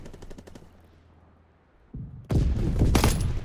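Automatic gunfire and heavy shooting from a Call of Duty WW2 multiplayer Hardpoint match, starting with faint distant bursts, then a sudden loud close barrage of rapid shots that fills the last second and a half.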